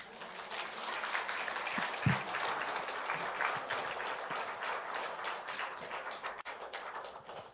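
Church congregation applauding to give glory to God during a house church testimony festival, a steady, fairly faint wash of many hands clapping throughout with a few louder taps.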